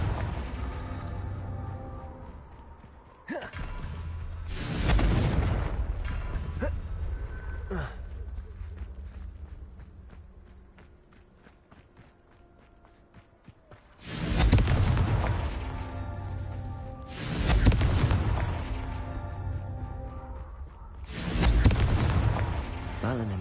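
Spell explosions booming in a fantasy video game: several heavy blasts with deep rumbling tails, spaced out, loud and close, separated by quieter stretches of game sound.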